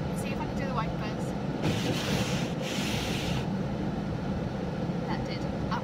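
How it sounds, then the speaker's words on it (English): Car windscreen wipers sweep across the glass from inside the car, a close, steady rubbing swish that repeats, with a louder scraping stretch in the middle. "Let's see if I can do the wipers."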